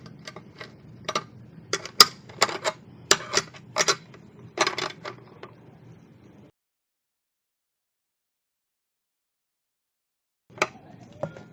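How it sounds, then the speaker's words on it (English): Balance bike parts are screwed back on by hand, making sharp, close metallic clicks and ticks in an irregular run that stops abruptly; after a few seconds of silence, a brief cluster of clicks returns. "And we screw everything back on."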